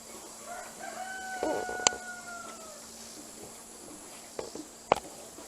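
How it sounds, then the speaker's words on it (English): A rooster crows once with a drawn-out tonal call amid farmyard morning chores, followed by a couple of sharp short clucks or clicks later on, fairly faint over a low steady background hum. "And a chicken just ran through."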